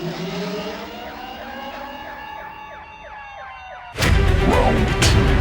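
Police siren from the anime film Akira, wailing and sweeping in pitch over a running motorcycle engine, then abruptly cut by a louder burst of harsh noise near the end; no speech.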